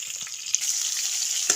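Garlic, onion and green chilli frying in hot oil give a steady, close sizzle throughout, with a couple of brief stirring knocks.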